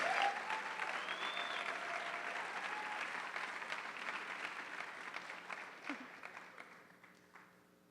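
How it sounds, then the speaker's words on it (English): Sustained applause from an audience at a Super Scholars school ceremony, a steady wash of many hands clapping that gradually fades, with faint voices and a brief whistle-like tone mixed in. "A huge round of applause and congratulations to our Lake Nona Super Scholars"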